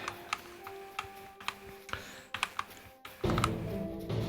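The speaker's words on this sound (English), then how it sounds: "Sorry if anyone's triggered by the clicky keyboard, but yeah, I just really like a loud keyboard." Rapid clicks from a loud, clicky computer keyboard tap out in short bursts during a Lord of the Rings Online game session, sharp and close, followed by a denser wash of background game sound near the end.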